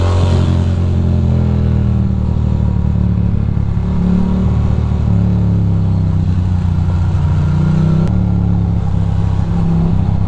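Engine noise from a vehicle in Brooklyn traffic speeding up, a loud, close mid-pitched engine drone whose tone shifts and climbs partway through, with a brief sharp click near the end and no talking.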